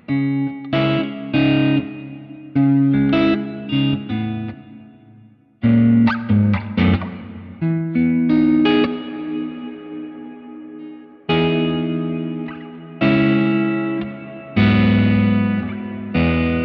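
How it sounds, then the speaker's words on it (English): An electric guitar through an amp modeler with heavy reverb plays distorted chords in bursts, each one ringing out and trailing into washy echoes. "I love that reverb."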